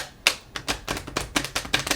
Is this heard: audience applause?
no